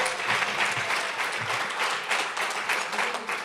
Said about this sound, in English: Let's have a round of applause for our MC